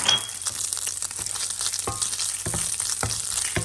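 Garlic fries in a pan with a steady close sizzle, broken by intermittent scrapes and clinks from stirring.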